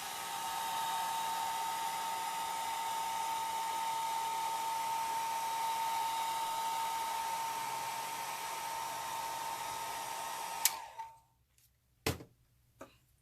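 Hair dryer on its low setting blowing steadily over drops of alcohol ink for about ten seconds, a close, even whir with a faint whine that cuts off abruptly, followed by a couple of light knocks in near silence.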